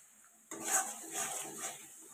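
Egg curry masala is stirred in a frying pan, with a sudden onset of soft scraping and gentle sizzling that swells and fades in a few slow strokes.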